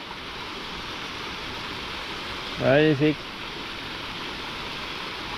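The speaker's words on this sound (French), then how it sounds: "Jolie petite cascade." A small waterfall beside the Plazaola via verde cycle path, near a tunnel, gives a steady, soft rushing wash throughout, with one brief spoken word partway through.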